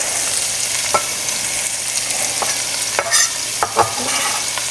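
Sweet onion frying in a skillet gives a steady broadband sizzle, with a few sharp utensil clicks and stirring scrapes scattered through it.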